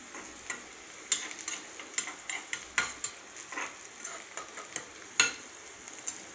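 Onions frying in a pan, heard as a faint steady sizzle broken by a string of sharp spatula scrapes and clinks against the metal as they are stirred, up close and without talk.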